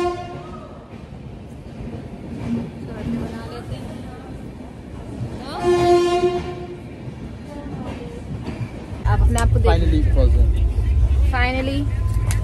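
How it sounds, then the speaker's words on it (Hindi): Train arriving at a station platform on the way to Ujjain, running late. Rumbling wheels, horn-like tones and a loud, close rush of carriages build near the end, under people talking. "फिर जो वेट करते करते करते करते ट्रेन फाइनली फाइनली आ जाती है"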